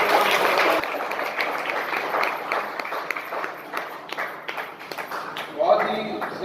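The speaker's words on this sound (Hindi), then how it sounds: "जोरदार तालियों के साथ हम सब" Audience applause at an award ceremony honoring party workers, a dense patter of clapping that continues under someone speaking over a microphone, fading and swelling slightly toward the end.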